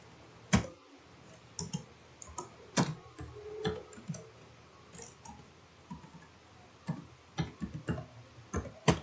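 Keyboard keys pressed on a computer, including a Ctrl+S save shortcut, heard as scattered sharp close clicks spaced unevenly with quiet gaps, then a quicker cluster near the end.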